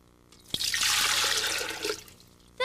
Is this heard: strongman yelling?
no